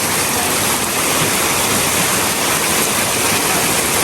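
The Napuru waterfall near Arusha, Tanzania roars close by in a dense, unbroken rush of falling water, loud and steady throughout with no voices.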